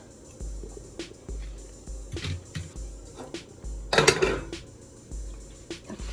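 Pans and oven hardware clatter while a meatloaf is checked in a home kitchen oven: scattered soft knocks and clinks, then a sharper metallic clank in the middle, with low hum and thumps throughout.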